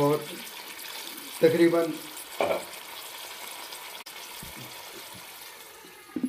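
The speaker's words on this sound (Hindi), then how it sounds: "और अब मैं ये 1 लीटर पानी डाल रहा हूँ मैं इसमें" One litre of water is poured into a mutton chaap karahi over fried garlic paste, with a hiss of sizzling and splashing that surges in short bursts while someone talks over it.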